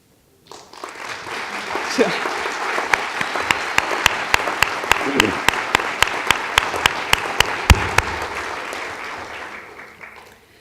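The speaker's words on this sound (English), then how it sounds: "please stand so we can applaud you for your outstanding work" Audience applause at a university building grand opening, honoring the architects and builders: a steady, full wash of clapping that sustains for about ten seconds, punctuated by sharp louder claps, then tapers off.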